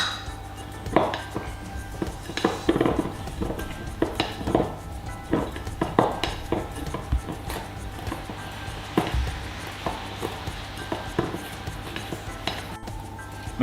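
Butter, cocoa, sugar and flour being worked together in a bowl into a craquelin paste for a hazelnut and pear Saint-Honoré, with repeated irregular scraping knocks and light clinks of utensil against bowl.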